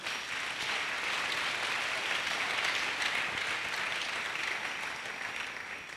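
A church congregation applauds in steady, sustained clapping that runs the whole time, fairly soft and without speech.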